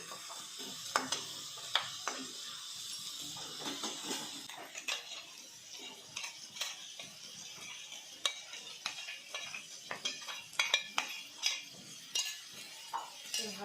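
A utensil stirs a mix of crushed roasted peanuts and coconut into a pot on the stove, giving soft repeated scraping and light clinking taps against the metal over a faint sizzle, with no talking.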